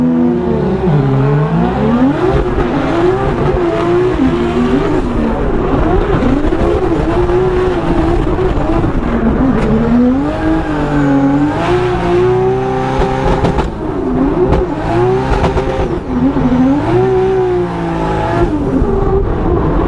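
A 2JZ-swapped BMW E36 drift car battles in Formula Drift at Long Beach, its engine roaring loud and continuous with wavering revs, bouncing on and off the limiter, along with tire squeal for the whole stretch and no talking.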